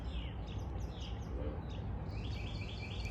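Several birds chirp and tweet outdoors in quick, scattered bursts over a steady broadband background hiss, moderately distant and fairly soft.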